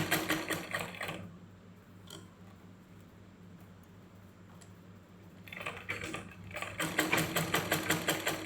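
Sewing machine stitching a fabric waistband, a fast steady mechanical whir with rapid needle ticks that slows and quiets in the middle before speeding up again, close and alone with no talk.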